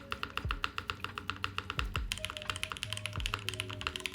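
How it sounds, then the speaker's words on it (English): A tuned keyboard spacebar gives several deep, rounded thocks, each landing among a steady patter of crisp, quieter key clacks from fast typing close by. "That is crazy deep for a spacebar."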